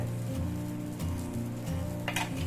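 Dosa batter sizzling in sesame oil on a hot pan, a steady close crackle and hiss throughout with a brief scrape or clink near the end.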